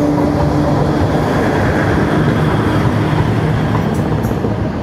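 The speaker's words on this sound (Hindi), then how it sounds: "और देखिए खाली ट्रेन जाती हुई अभी आउटर पे लगेगी जाके" An empty MEMU passenger train runs past near Aunrihar Junction, a loud, steady rumble and rail roar that holds for the whole stretch with no talking over it.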